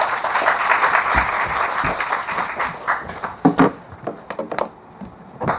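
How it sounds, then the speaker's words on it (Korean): An audience at a church lecture event claps enthusiastically, a dense burst of applause that thins out into scattered claps and fades near the end. "뜨거운 박수로 우리 환영하도록 하겠습니다"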